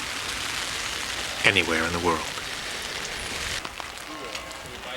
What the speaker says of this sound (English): rain-soaked canal side street.